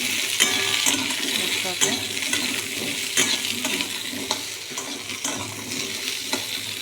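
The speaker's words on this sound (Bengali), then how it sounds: "আলু দিয়ে দিলাম কচু কচু দিয়ে দিলাম কচুটাও ভাজা ভাজা হবে" Potatoes and taro chunks frying in a pan, a steady crackling sizzle with stirring scrapes and small clinks running throughout, fairly close and with no talk over it.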